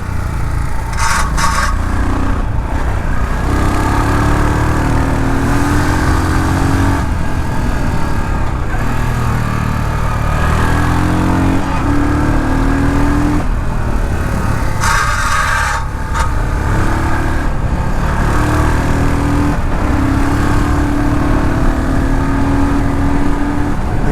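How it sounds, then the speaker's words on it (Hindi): Royal Enfield Scram 440 motorcycle exhaust while riding: a steady, loud engine thrum with wind rush, holding fairly constant and rising slightly at moments, with no talk. "एग्जॉस्ट साउंड काफ़ी प्यारा है। पुराने हिमालयन का जो एग्जॉस्ट साउंड था वही मुझे अभी नॉस्टैल्जिया वाला फील हो रहा है।"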